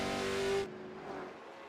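A late model race car screams past loudly at North Wilkesboro in the iRacing video game, its high engine whine cutting off abruptly and leaving the fainter drone of other cars in the distance.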